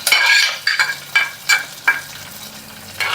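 Hot tempering poured into a fenugreek-leaf and kasuri methi dal, giving a bright crackling sizzle in several short bursts, close and fairly loud, with spoon stirring between them.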